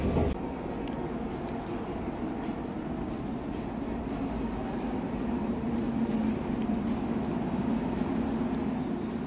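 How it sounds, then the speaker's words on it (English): Airport underground people-mover train serving the D gates, a steady low rumble and rolling hum of the moving car heard from inside, continuous with no talk. "So to get to the D gates from here, I'll have to take the underground train."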